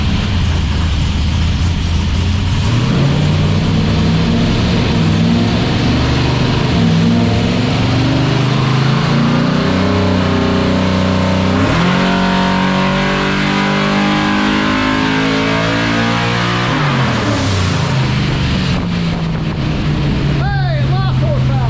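A 400 cubic inch small-block Chevy V8 running on E85 revs hard on a hub dyno, its loud engine note climbing steadily in pitch through a long pull, then dropping back toward idle.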